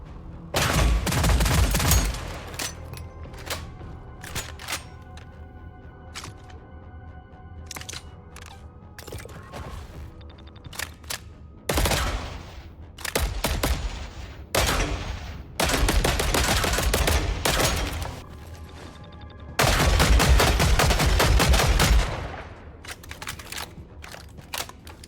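Guns in the video game Killing Floor 3 fire in loud, close bursts and single shots, with rapid automatic volleys alternating with sparse shots and mechanical clicks between them.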